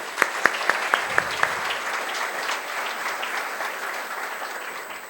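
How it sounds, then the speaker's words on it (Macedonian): An audience bursts into applause at a bridal fashion show; a run of six sharp, evenly spaced claps rings out at the start over a broad wash of crowd clapping that carries on steadily. "Имено, слободно аплауз,"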